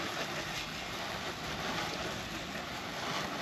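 Hose spray rinsing cleaner off a camper van makes a steady, broad hiss of running water that continues evenly throughout, with no talk.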